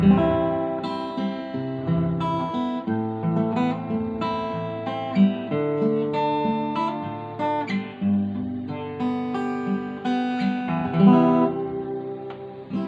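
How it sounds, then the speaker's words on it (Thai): An acoustic guitar is plucked note by note in a gentle melody, clear and close, played alone without any voices. "อันนี้คือเสียงของกีตาร์โปร่งนะครับ"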